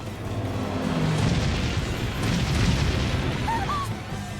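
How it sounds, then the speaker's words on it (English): Cannon fire in the Bravely Default HD Remaster game, a dense, loud rumbling barrage of booms sustained throughout with no clear gaps. "cannon fire? This is madness!"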